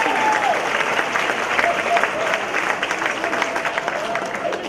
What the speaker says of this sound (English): I'd first like to just offer a round of applause to everyone who appreciates it